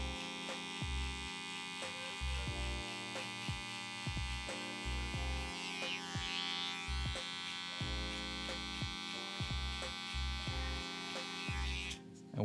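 Electric hair clippers buzz steadily during a freestyle barber design cut, set open about a quarter inch, with a low pulsing motor hum and repeated short clicks or taps throughout.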